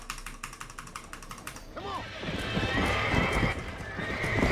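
In the video game Red Dead Redemption, a horse's rapid hoof clip-clops open the clip, then a loud whinny rises over heavier pounding hooves and rushing game noise.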